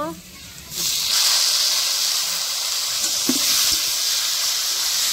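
Cucumber pieces drop into hot oil already frying with green chilies, setting off a sudden loud, steady sizzle and hiss that holds close and continuous after a quieter opening.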